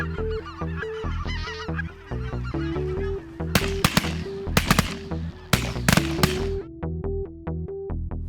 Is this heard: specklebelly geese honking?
yes